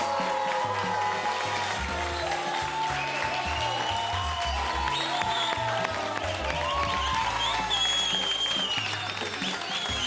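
A crowd applauds at a live event as a performer is welcomed on stage, a steady wash of clapping over loud music with a pulsing bass line.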